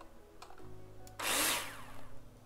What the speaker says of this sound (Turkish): Vidaları atıyoruz.